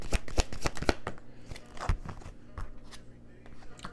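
Tarot cards are shuffled close up in quick bursts of crisp riffling clicks. Softer snaps and slides follow as cards are drawn.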